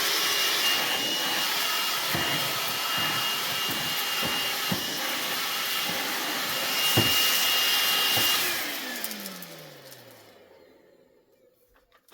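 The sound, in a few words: Bauer cordless vacuum running on DeWalt 20V battery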